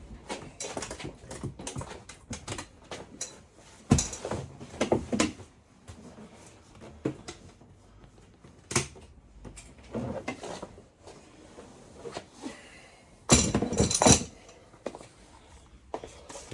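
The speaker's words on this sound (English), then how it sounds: "Then carefully, without damaging anything, lift the seat off and out." Seat being lifted off its base in a VW T6 van: scattered bumps, clunks and scrapes of the seat coming free, with a couple of louder knocks and a burst of rattling handling toward the end.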